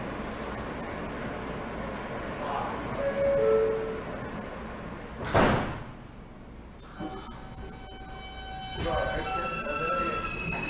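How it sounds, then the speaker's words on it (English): New York City subway train doors closing on a Manhattan-bound train at 20th Avenue: a sharp thud of the doors shutting mid-clip, set within rumbling car noise and tonal chimes or motor whine, with some station noise around it. "Stand clear of the closing doors"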